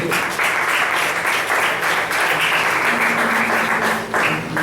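Congregation applauding at a Christmas church service, a steady dense wash of many hands clapping for the full stretch with no voices on top.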